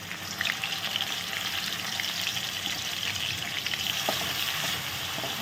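A tempering of curry leaves and hot chillies frying in a pan, giving a dense, continuous crackling sizzle up close, with a few faint stirring scrapes and no speech.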